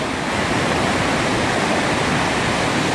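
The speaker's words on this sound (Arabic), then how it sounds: "ما زلنا في شلال ليتفوس، شوفوا قوته كيف." Låtefoss waterfall in Odda, Norway roars as a loud, constant rush of falling water, close and unbroken, with no voices.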